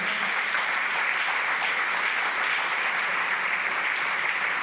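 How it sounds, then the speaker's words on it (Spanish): A church congregation claps for the Lord during a Spanish-language sermon, a steady, even wash of many hands clapping at once, close and continuous throughout. "dele palmas al Señor"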